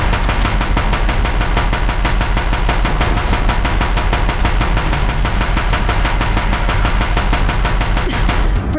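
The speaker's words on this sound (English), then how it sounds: "If the Deathbringers keep firing" Deathbringer machines fire guns nonstop in Horizon Zero Dawn, a loud, rapid, even stream of shots that hammers on for several seconds before cutting off.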